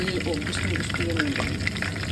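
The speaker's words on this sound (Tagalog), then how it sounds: "Fry na chicken." Chicken frying in a pan, a dense steady sizzle and crackle throughout, close and constant with a faint voice in the background.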